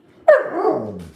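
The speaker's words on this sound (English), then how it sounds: "Are we supposed to be barking in the house?" Indoors, a dog lets out one sharp, close bark that trails off into a drawn-out, falling whine-like tail, clear against a quiet room.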